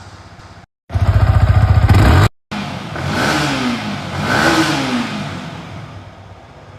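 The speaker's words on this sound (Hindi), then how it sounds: "अभी एग्जॉस्ट साउंड और सुना देता हूँ" Exhaust of a Yamaha R15 V4 motorcycle revving, a sharp loud burst of throttle followed by rising and falling revs that swell twice before settling to a steady idle rumble.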